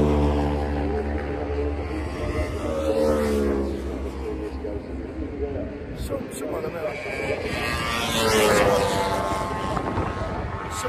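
Racing motorcycles scream past at Cadwell Park circuit, engine notes sweeping up and down as machines approach and recede, loud and continuous, with wind buffeting the microphone.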